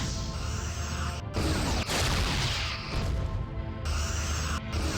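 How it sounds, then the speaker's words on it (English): In a Star Trek ship battle video game, photon torpedoes fire as a loud, dense volley of booming, crackling blasts and sweeping whooshes, with several bursts overlapping in quick succession. "Okay, they're firing photons."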